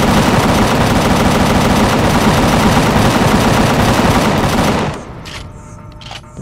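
Gunfire in the game Empyrion: Galactic Survival as an ally shoots enemies, a loud dense stream of rapid automatic shots for about five seconds, then cutting off to a quieter stretch with a few clanks and a final burst.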